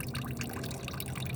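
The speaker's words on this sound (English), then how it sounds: "So it's still dripping," Old, dirty coolant drips and trickles from the drain plug of a car radiator, a close, steady liquid patter with no talk over it.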